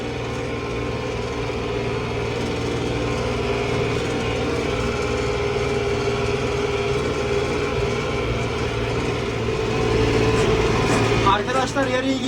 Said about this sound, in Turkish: Traktör gaz vermeden devrimi toparlamıyor.